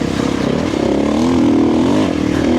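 Dirt bike engine fitted with a Dobeck EJK fuel controller and Fastway ProMoto billet end cap, revving hard and close with a loud, steady buzzing drone that rises and falls in pitch.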